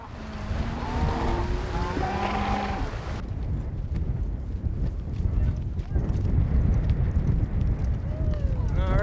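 Horses ridden on a cattle drive clip-clop over the ground in steady hoofbeats, with wind noise and people talking over the start.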